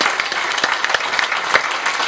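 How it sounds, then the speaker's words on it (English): An audience at a live psychic demonstration gives a round of applause, a steady burst of many hands clapping, with a few sharper individual claps standing out near the front. "Give her a round of applause."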